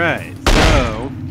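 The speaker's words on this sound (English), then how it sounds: "she's got a freaking machine gun" A sudden loud burst of machine gun fire in The X-Files game follows a brief spoken line, its rattling blast dense and close before fading within a second.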